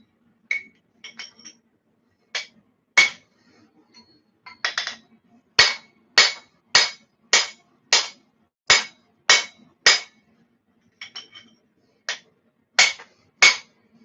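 Hammer strikes ring sharply on steel over an anvil while forging a bow-tie shape, starting with a few scattered taps and then settling into a steady run of loud, evenly spaced blows, with brief pauses between bursts.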